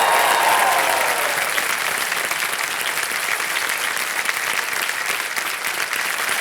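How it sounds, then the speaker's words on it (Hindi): Studio audience applause on the Kaun Banega Crorepati quiz show, loud sustained clapping from a large crowd that holds steady across the whole stretch with no talking on top. "तालियां बच्चों के लिए।"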